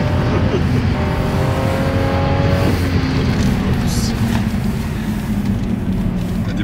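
Car engine on the Nordschleife circuit, droning loudly and steadily with sustained high revs, buzzing against the rev limiter and repeatedly holding a flat tone, with cabin and road noise throughout.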